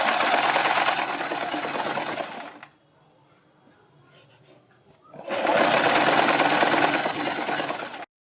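A sewing machine stitching fabric in two loud, fast, continuous whirring bursts, separated by a few seconds of near quiet.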